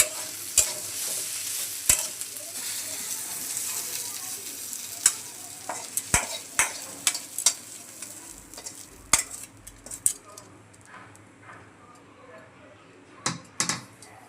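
Ridge gourd with fish roe frying and being stirred in a pan, a steady soft sizzle with repeated sharp scrapes and clinks of a spoon against the pan, some louder near the end.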